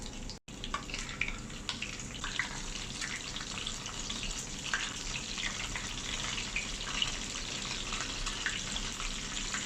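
Dried tilapia (daing na tilapia) frying in hot oil in a clay pot, a steady dense sizzle and crackle running throughout at close range, with no talk.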